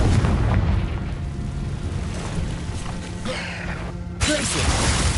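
A Confringo fire spell explodes in the Hogwarts Legacy video game, a dense booming blast over rumbling game noise, followed by a sharp bright burst near the end.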